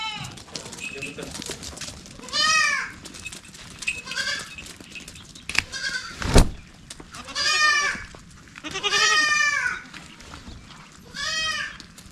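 Goats on a small goat farm in Solgaon in the Konkan region bleat repeatedly, several loud, wavering calls at intervals, some overlapping, over a quiet farmyard background.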